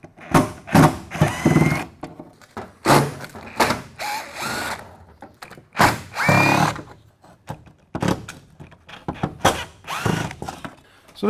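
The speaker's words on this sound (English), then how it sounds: "I've got an impact driver, and I'm going to take these out." Impact driver backing out windshield assembly fasteners, in repeated loud bursts of buzzing, hammering rattles separated by short pauses, close up and alone without talk.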